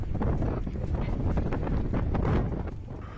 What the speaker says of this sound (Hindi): तूफान में जो तेज हवाएं चली